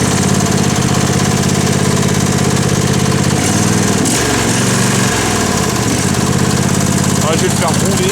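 A John Deere tractor engine, just restarted after sitting through winter, idles loud and close with a rough, rhythmic chugging and a slight knock that stays steady throughout.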